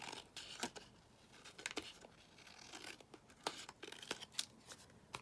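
Scissors trimming paper for a handmade folio tag: quick, close snips and rustling paper strokes in an uneven rhythm, very faint and with no talk.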